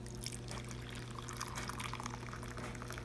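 Hot boiled water being poured into a container for soaking an old doll: a continuous, fairly close gurgling pour with splashing and a low steady hum underneath.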